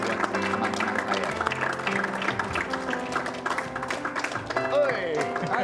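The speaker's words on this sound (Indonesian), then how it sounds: "Boleh kita berikan tepuk tangan yang paling meriah buat teman-teman saya." An audience applauds to welcome two guests onstage, steady clapping running under music and voices throughout, with people talking over it.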